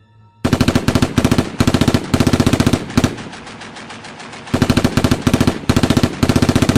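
Gunfire from a Roblox Brookhaven roleplay game rattles out in loud, rapid automatic bursts, pausing briefly near the middle and then resuming in several more close bursts.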